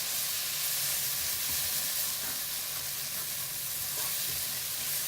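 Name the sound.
onions and masala frying and being stirred in a pan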